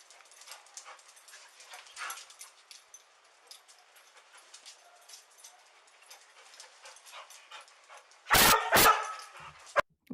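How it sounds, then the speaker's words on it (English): Police K9 dogs barking during a house search: faint, scattered yips and barks in the distance, then a couple of loud, sharp barks up close near the end. "the dogs are barking"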